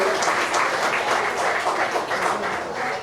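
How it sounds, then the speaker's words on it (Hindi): A studio audience at the launch of the Sa Re Ga Ma Pa reality show on Zee TV gives contestants hearty applause, a dense, moderately loud burst of many hands with faint pulsing swells, steady throughout with no speech. "इनके लिए जोरदार तालियां हो जाए"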